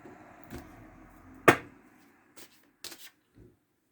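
Oracle cards being shuffled and laid out for a card reading: one sharp riffle burst near the middle, then a few soft taps and slaps as cards are set down, quiet between, no talking.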